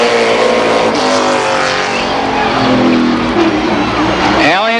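Stock cars, a Thunderbird and a Grand Prix among them, roar around an oval track at Columbus Motor Speedway in 1990, a loud sustained engine drone with a rising whine as one passes close, under a commentator's voice.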